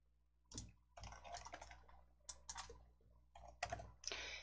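A computer keyboard being used at a desk, with a string of soft clicks and taps in quick bursts, close but quiet over a low steady hum.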